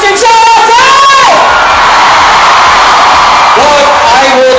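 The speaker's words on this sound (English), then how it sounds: "Big round of applause, please, for your finals MVP, Mr. John Tai." A loud crowd of fans at a De La Salle Green Archers celebration night cheers and whoops for the finals MVP, a dense continuous roar right up close, with an announcer's amplified voice calling out over it.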